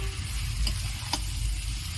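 Fried jackfruit and potato pieces go into a simmering spice masala for an Indian jackfruit and prawn dish, giving a steady close sizzle with a couple of faint ticks or clinks from the pan.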